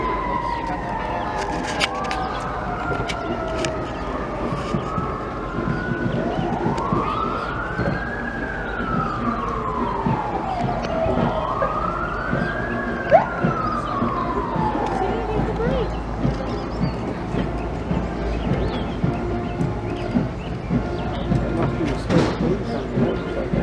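A police car siren wails on a highway, rising and falling in long sweeping cycles over steady road and traffic rumble, moderately distant; people talk intermittently in the background.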